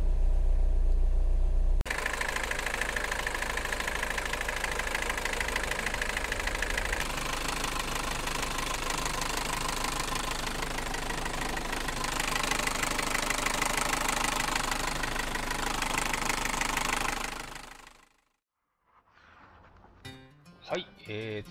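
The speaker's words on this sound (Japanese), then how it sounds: "じゃあエンジンかけます" A 2000s Mini Cooper S (R56) engine with an oil leak turns over and settles into a steady idle, droning close by for a long stretch before cutting off abruptly.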